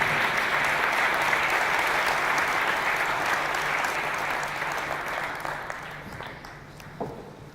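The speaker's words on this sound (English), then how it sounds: "big round of applause for Amy Davies from My Next Product" An audience at a Pitch@Palace on-tour pitching event in Newcastle gives the panellists a dense, sustained round of applause that slowly thins and fades out toward the end.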